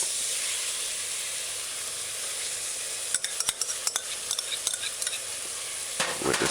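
Baked beans being stirred into a sizzling, frying sauce in a pan, a steady hiss joined partway through by a run of close scraping stirs, with no talk.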